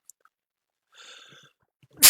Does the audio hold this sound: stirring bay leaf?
no